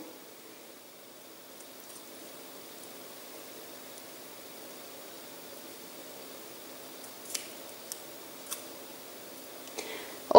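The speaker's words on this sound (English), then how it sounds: "So I'm just going to cut off the part that doesn't have any bone." Scissors cut raw meat away from the bone to feed a baby owl. A few quiet, crisp snips come close together near the end, after a long stretch of faint room hiss.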